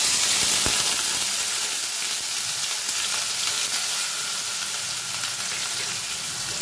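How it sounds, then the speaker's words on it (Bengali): Chopped onion goes into hot oil spiced with tempering for a dharosh aloo chingri curry, giving a loud, steady sizzle with a hissing wash and occasional soft crackles close up, without any voices. "এবার এর মধ্যে আমি পেঁয়াজ কুচিটা অ্যাড করে দেব।"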